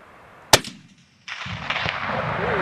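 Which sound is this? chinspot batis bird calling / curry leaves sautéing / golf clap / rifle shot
rifle shot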